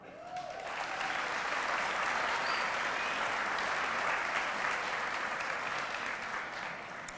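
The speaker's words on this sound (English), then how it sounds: "and these 2 people are going to stand also, and then we'll applaud." Audience at a high school commencement ceremony applauding award winners, a dense, even wash of clapping that holds steady for several seconds before easing slightly.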